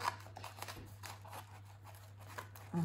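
Small scissors snip repeatedly through a paper envelope, quiet close-up cuts in an uneven rhythm over a low steady hum.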